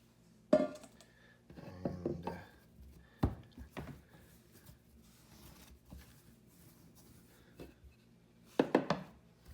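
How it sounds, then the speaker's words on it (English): Chapati dough being kneaded by hand on a work surface, soft irregular thumps and slaps in short bursts with quiet pauses between, fairly close and faint. "I'm just going to give a quick knead"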